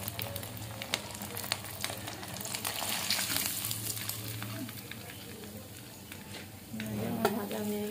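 Food sizzles and crackles in leftover oil in a wok, with scattered sharp pops and occasional stirring scrapes, fairly close, while a voice talks briefly near the end.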